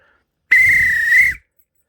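A train guard's whistle gives one sharp, shrill blast lasting just under a second, loud and close, with silence before and after.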